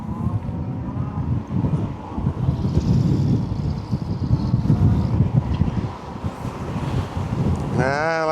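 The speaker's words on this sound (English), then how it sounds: "Like I said, damn wind. Wind's pretty bad, man." Strong wind roars steadily across the microphone on a big motorbike ride, a constant loud buffeting rush with gusts rising and falling throughout.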